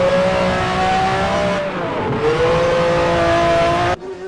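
Onboard engine note of a Ferrari 512 BB LM race car in a historic sportscar racing game at Road Atlanta, a loud sustained high-revving howl that dips and climbs with gear changes, briefly cutting out before ending abruptly.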